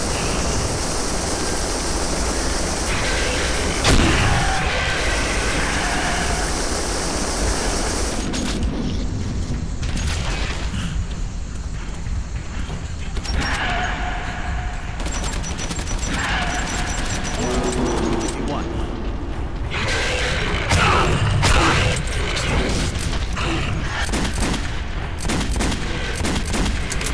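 Gunfire and bursts in the video game Metro 2033 crack and boom repeatedly amid mechanical clanks and creaks, with voices talking throughout.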